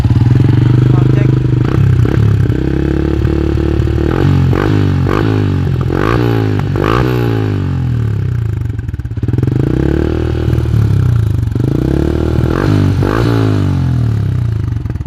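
A Yamaha Sniper motorcycle that has sat mostly unused, with a somewhat weak battery, idles loud and close. It revs in several rising and falling bursts, and a voice speaks briefly over the engine.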